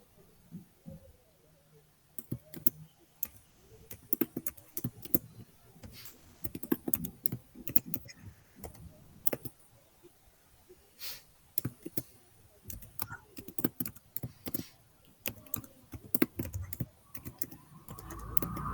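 Rapid keystrokes on a computer keyboard as a password is entered, irregular bursts of close clicking taps with short pauses, alone without talk.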